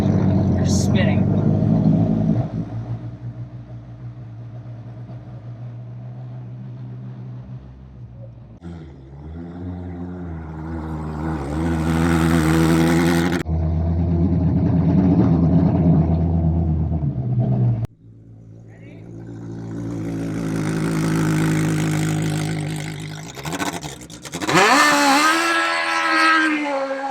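A modified Smart car with a welded differential spins its wheels in winter conditions, the engine revving and droning in long surges with tire noise, close and loud, while people talk over parts of it.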